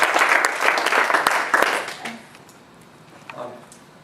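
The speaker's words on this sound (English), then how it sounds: "Can we have another round of applause?" An audience at a hip hop dance interview event claps, a dense wash of applause that fades out after about two seconds, leaving quiet room noise with a few stray claps.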